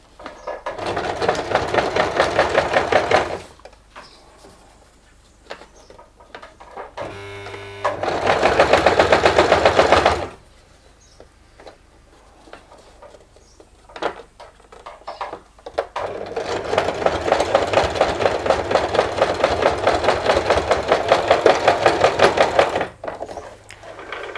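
A sewing machine runs a straight stitch on menstrual underwear in three long, steady bursts of fast mechanical whirring, separated by quiet pauses with light handling noises.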